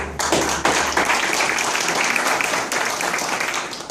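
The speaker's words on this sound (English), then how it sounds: "Let's receive her with some claps." An audience at a stand-up comedy night claps to welcome the next comedian, a dense, fairly close round of applause that holds steady for a few seconds and slowly eases off.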